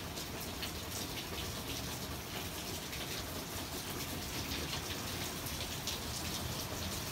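Heavy rain pours down steadily, a dense continuous hiss and patter on surfaces that stays even and fairly close for the whole stretch, with no voices.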